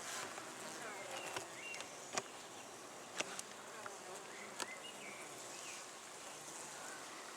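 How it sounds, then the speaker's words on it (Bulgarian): Bees buzz steadily around a top bar hive outdoors, a close continuous drone with occasional sharper passes of individual bees flying near, while people talk quietly in the background. "Искам да видя пчелите."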